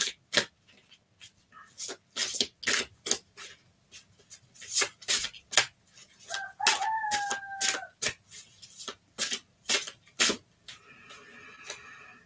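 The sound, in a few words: rooster crowing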